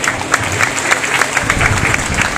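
A crowd at a political rally at the Punjab Civil Secretariat claps steadily and fairly loudly, with dense overlapping hand claps throughout and no clear voice above them.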